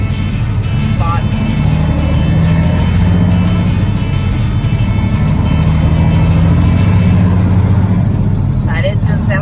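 A diesel 18-wheeler truck engine runs steadily and loudly throughout, a constant low rumble during a Texas corn harvest, with people talking over it.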